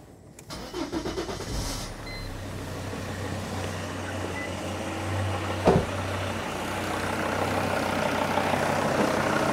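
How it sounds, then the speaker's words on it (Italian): A car engine powered by a Bluetti portable power station cranks briefly and catches, then settles into a steady low idle that continues to the end, heard close and alone. "Test riuscito, la macchina è andata in moto, tutto ok."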